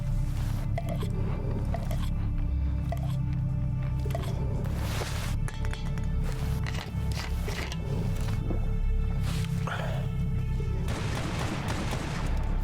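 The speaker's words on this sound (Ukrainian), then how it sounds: "Час підкріпитися та попити води." In the video game S.T.A.L.K.E.R. Anomaly, a character eats and drinks water, making wet squishing, chewing and gulping sounds. These repeat over a steady ambient game drone for several seconds.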